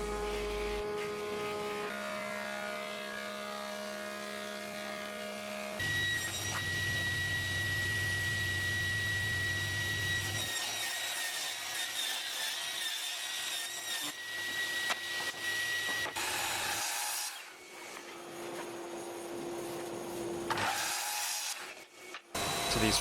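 A power tool cuts tongue and groove joints into 230 by 25mm French oak panels for a neoclassical tabletop, with a sustained loud whine and drone broken by changes in pitch and brief lulls between passes, close by, with no talk.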